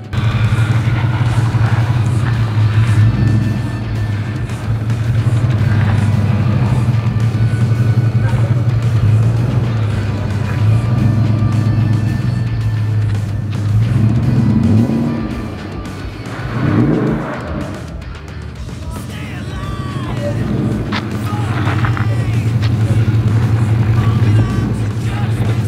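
Two Toyota Land Cruisers, a 76 series and a 100 series, drag racing, with steady loud engine drone building and holding throughout, a brief surge and dip midway, and faint voices in the background.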